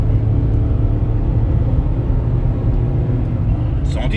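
A Peugeot 1.2 PureTech petrol engine pulling hard under acceleration, a loud, steady low rumble heard from inside the car, with a voice talking over it.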